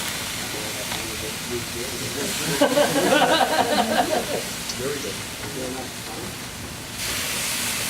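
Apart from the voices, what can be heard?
food sizzling on a grill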